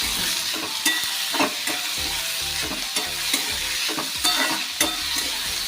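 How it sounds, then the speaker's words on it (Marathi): Chopped onion sautés in a hot garlic tempering for a cowpea pod vegetable dish, giving a close, steady sizzle broken by repeated scraping stirs of the spoon, with no talking. "आपण कांदा टाकूया. कांदा छानपैकी परतून घेऊया."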